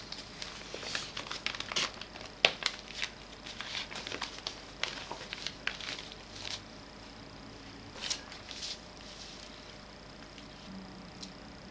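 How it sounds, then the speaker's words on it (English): Paper crinkles softly as a folded origami ground beetle model is opened back out: scattered quiet rustles and crackles at close range, with no one talking. "you unfold everything except for these last 2 folds you made"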